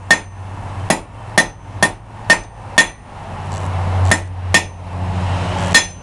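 Hammer blows strike a roughly 3/16-inch square steel bar, drawing a short two-sided taper: about ten sharp, ringing impacts at a steady, unhurried pace, close and loud over a low forge hum.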